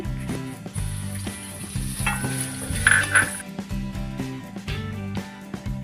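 Finely chopped garlic and tomato fry in a pan, a continuous close sizzle broken by regular scraping stirs, with a brief high whine partway through.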